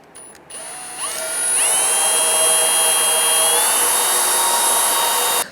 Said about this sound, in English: We're going to go ahead and drill a pilot hole next.